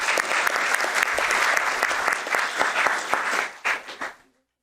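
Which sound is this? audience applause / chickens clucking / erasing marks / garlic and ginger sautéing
audience applause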